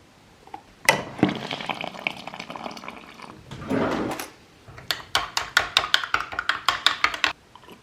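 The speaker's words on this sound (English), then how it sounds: "I'm gonna mix that all up now, get that down me" Protein powder and a scoop of pre-workout being mixed into a drink: a sloshing, swirling liquid burst, a second rush of churning, then a quick run of sharp rhythmic rattling shakes close to the mic.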